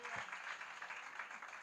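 A church congregation claps together, a dense, moderately distant patter of hands running throughout without a break.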